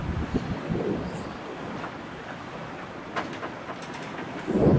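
Steady wind buffets a Hallberg-Rassy 69 sailing yacht at sea under full main and headsail, a continuous rushing roar with gusty swells and microphone buffeting, alone and close.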